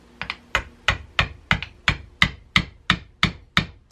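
A hammer striking a screwdriver into the eye of a fresh coconut, about a dozen sharp, evenly spaced taps heard close and alone.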